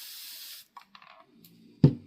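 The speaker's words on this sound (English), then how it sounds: "I'm going to spray this one down real quick." A spray bottle mists a spider terrarium with one short hiss at the start. Faint clicks and handling noises follow, then a single soft thud at the end.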